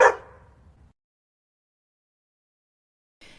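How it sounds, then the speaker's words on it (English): A single sharp dog bark rings out close by, then silence, followed by a brief faint noise at the end. "Old Tom wagged his tail and barked a friendly, "Hello"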